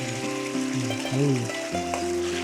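Chili tossed into onions frying in hot oil for a Marathi phodni tempering: a close, steady sizzle with a few tonal hums rising and falling over it.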